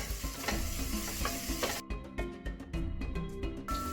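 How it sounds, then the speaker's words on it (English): Garlic and ginger frying in hot oil in a pan while being stirred: steady close sizzling with scraping stir strokes and clinks of the utensil against the pan, no talk. "I've got oil in the pan. Okay, garlic, ginger, yes, you stir it"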